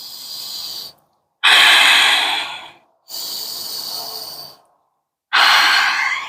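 Four deep breaths taken during a yoga pose, each a long airy inhale or exhale close to the ear, separated by short silent pauses.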